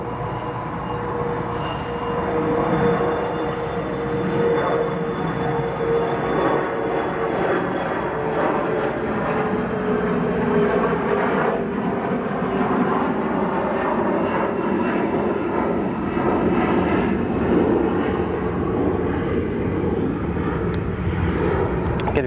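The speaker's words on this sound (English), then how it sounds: "Go to another departure from 28 right." A jet airliner departs runway 28 Right at O'Hare International, its engine roar loud and sustained across the whole span with a slowly shifting whine, heard from a distance with no voices.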